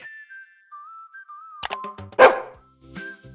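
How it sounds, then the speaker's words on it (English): A dog gives one short, sharp bark in the middle, with a few soft yips around it. Thin whistling tones run through the background. "The dog says woof and loves to play."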